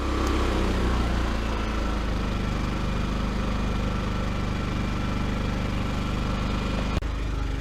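A Firman 3200-watt inverter generator runs steadily in eco mode, a continuous loud engine drone with even vibration and no variation, close by, with a small click near the end.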